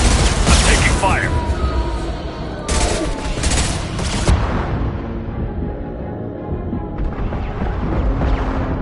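Gunfire from a Mass Effect 2 combat scene crackles in dense rapid bursts with loud impacts and mechanical clatter. Game music and effects sit underneath the shots.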